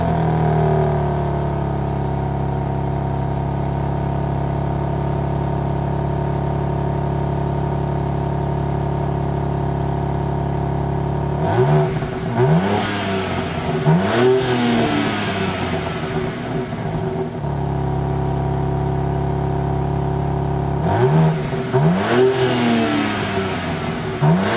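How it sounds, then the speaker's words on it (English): A BMW M4 Competition exhaust idling loudly up close, then revved sharply several times in quick bursts with rising and falling pitch, followed by another pair of revs near the end. "the most important thing about the exhaust is what it sounds like"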